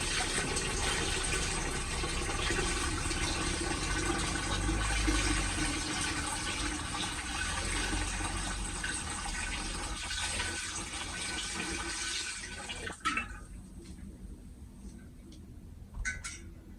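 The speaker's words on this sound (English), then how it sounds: "we are going to top it up to 6 litres, as we want a full gallon when we have racked this" Liquid pours steadily into a vessel to top up ivy blossom mead to 6 litres, a close, continuous rushing stream that stops near the end and leaves a few faint clinks.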